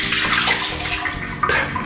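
Hot water gushing steadily from a tap into a basin before a wet shave, a loud close-up rushing stream with a brief surge partway through.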